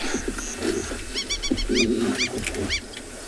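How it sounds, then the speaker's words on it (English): An African water lapwing calls repeatedly in sharp, rising and falling notes, loud and nearby, on a South African safari, against a background with other animal noises and a low rumble. "There's another bird going loud and noisy."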